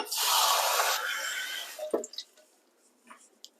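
Cold water rushes loudly over rasgulla cheese curds in a rinse for about two seconds, then stops, leaving a few scattered drips and squishy wet handling sounds, close and quiet.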